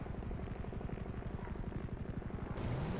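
A helicopter in a video game drones with steady, rapid rotor chop throughout, loud and continuous, with a rising whine near the end and no talk over it.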